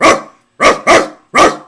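A person imitates a dog with four loud, close barks: one on its own, a quick pair, then a last bark after a short pause.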